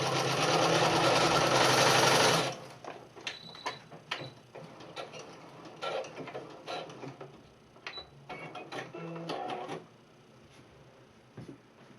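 A sewing machine stitches a quarter-inch seam along the edge of a fabric face mask, starting with a loud rapid burst of needle chatter, then slowing into softer, intermittent ticking and clacking of the mechanism at close range.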